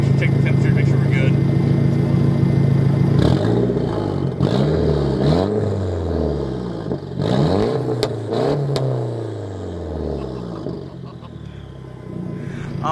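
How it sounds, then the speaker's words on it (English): A Nissan 180SX with a stock S13 turbo and factory manifold revs repeatedly, with rising and falling engine sweeps and crackling pops on the overrun between blips, close and loud after a steady idle. "Should be still warm from the drive in, so we'll give it a couple revs."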